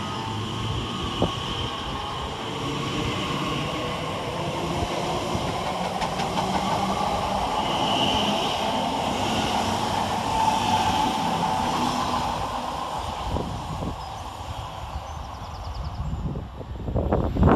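Elizabeth Line class 345 electric train 345056 runs through Twyford station on a service to Reading, giving a steady, close rumbling roar of wheels and motors that swells and fades with no talking.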